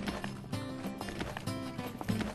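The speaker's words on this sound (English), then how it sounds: "It's the sound of the brave riders of the Pony Express." Pony Express riders' horses gallop in a quiet, rhythmic clip-clop of hooves, faint and set under soft background music.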